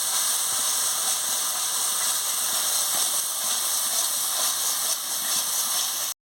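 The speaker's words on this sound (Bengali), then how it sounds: "লঙ্কা কাটা দিয়ে দিচ্ছি, কেটে রেখেছিলাম দিয়ে দিচ্ছি, দিয়ে ভালো করে মশলাটাকে কষাচ্ছি।" Spices and chopped chilli fry in hot oil for a rohu fish curry, a steady, loud, continuous hiss of sizzling that holds evenly for about six seconds before cutting off.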